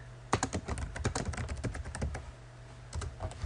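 Rapid typing on a computer keyboard, a close, steady run of clicky keystrokes with a brief pause before a final short burst; no one speaks.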